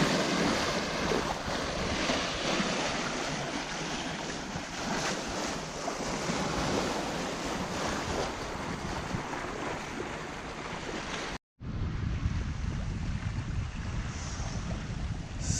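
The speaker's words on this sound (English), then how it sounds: "A little cutie bow wave" Gentle bow wave off a Hallberg-Rassy 54 sailing yacht at sea, a continuous hiss and wash of water against the hull mixed with wind buffeting the microphone, steady throughout with a brief cut near the end.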